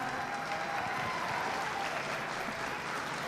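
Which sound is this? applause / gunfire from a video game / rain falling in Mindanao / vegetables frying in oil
applause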